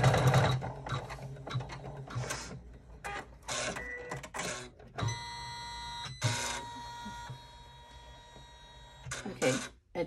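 A sewing machine stitches a travel line on a double zipper clutch, with several quick whirring runs broken by short pauses, close and fairly loud, and a brief cough or throat clear between them.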